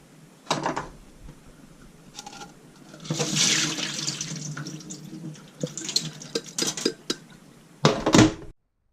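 Water rinsing sprouting seeds in a low-tech sprouting system, with close splashing and pouring in uneven bursts, faint rattles between them, and a final gush before it stops.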